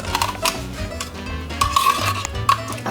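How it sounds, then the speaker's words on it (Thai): Beet soup is scraped from a container into a pot with a metal spoon, giving sharp clinks and scrapes of the spoon against metal in uneven bursts, close by and with no voices. "ดาก้าเทนี้ลงไปในหม้อใช้ช้อนช่วยหน ่อยลูก"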